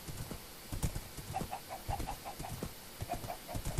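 Horse hooves clip-clop in the Minecraft video game as a mounted rider travels over hilly terrain: a quick, steady run of light, evenly spaced hoof taps, faint and fairly close, with no talking.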